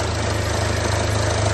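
A Ford Transit 1.5 TDCi diesel engine idles close by with a steady, even low-pitched rumble and a faint rhythmic clatter, running smoothly on its own without talking.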